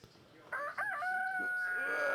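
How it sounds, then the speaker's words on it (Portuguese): A rooster in the video game Palworld gives a single clear cock-a-doodle-doo, a bright rising then sustained crow lasting under two seconds over a faint background. "O galo cantou."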